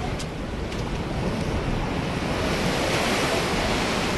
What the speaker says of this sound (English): There's some big waves there.